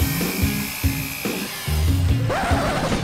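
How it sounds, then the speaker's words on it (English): A cylinder hone works the oiled cylinder walls of an engine block, a close, loud, whining drill drone that shifts pitch and stutters as it moves up and down the bore. "Honing is done to all the cylinders."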